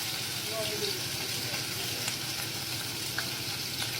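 Fresh fish fries in a pan with a dense, continuous sizzle and occasional pops, steady in level throughout.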